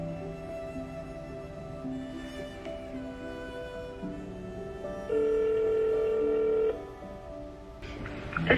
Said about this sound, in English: let's just make this phone call.